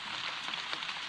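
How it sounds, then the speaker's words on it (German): Heavy rain pours onto a shelter in the Panama jungle, a dense, steady hiss of drops drumming close by with no voices. "hat es gerade wieder aus Eimern angefangen zu regnen"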